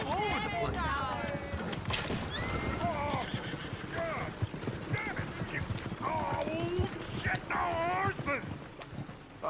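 Video-game hooves clip-clop steadily in Red Dead Redemption 2 while horses whinny and neigh several times, with people talking over the busy mix.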